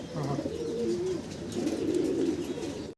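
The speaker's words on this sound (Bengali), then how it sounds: "এখানে আমরা আরও একজোড়া শৌকিং কবুতর দেখতেছি" Low, soft cooing from pigeons in cages on a pigeon farm nearby, a few rolling calls repeating over a faint background hum.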